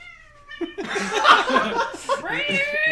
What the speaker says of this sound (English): The cat's here, too.